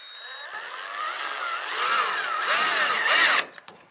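A power drill drives two screws into a replacement fuel door on a rusty Chevrolet Silverado, whirring in rising and falling bursts up close before stopping abruptly, with no talking.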